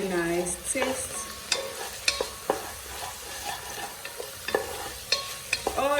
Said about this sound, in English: All this time, your beef is cooking alongside.